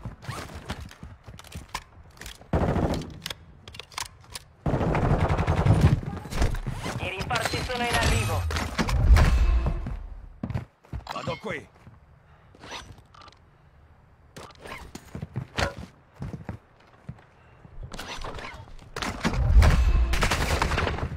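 Bursts of gunfire in a video game, scattered sharp shots and rapid volleys with mechanical clicks and creaks, under voices talking in game.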